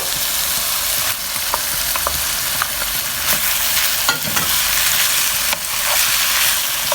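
Continuous sizzling in a pan while a spoon stirs and scrapes through minced meat and tomatoes, with irregular clinks and scrapes over the frying hiss.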